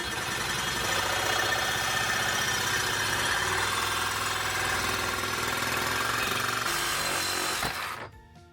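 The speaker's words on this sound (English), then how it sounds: "got my handy Sawzall with the Diablo metal blade on there" A Sawzall reciprocating saw with a Diablo metal blade cuts through cast iron indoors, a loud steady buzzing rasp that runs for several seconds before abruptly stopping.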